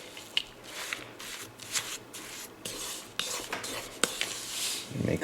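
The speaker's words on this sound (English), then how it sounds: "So I'll mix it all together." A spoon works almond crescent cookie dough in a bowl, giving soft, uneven scraping and clinking strokes against the dish, faint and close, with no talk.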